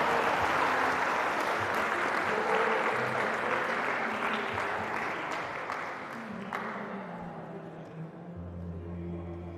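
Sustained applause from a large audience at a motivational session in a palace hall, dense and steady throughout, gradually thinning slightly toward the end.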